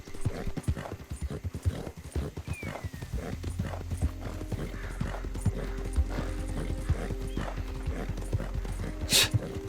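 Horse hooves clip-clop steadily in Red Dead Redemption II, with an occasional whinny and a low rumble beneath; the hoofbeats stay close and continuous throughout.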